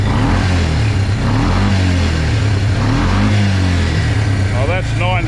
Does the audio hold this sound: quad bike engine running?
yes